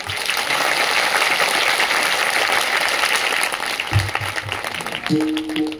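An audience claps for a temple trust board and its donors at a large gathering under a tent, a dense steady roar of applause that thins out near the end.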